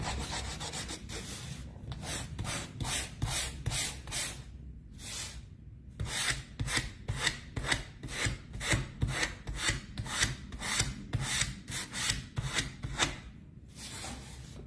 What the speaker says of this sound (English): but we went dark, so I'm gonna sand